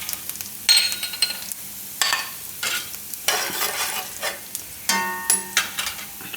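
Asafoetida dropped into hot salted oil for thecha rice, bursts of sizzling and frying that rise and fade several times, punctuated by stirring scrapes, close and fairly loud with no talk.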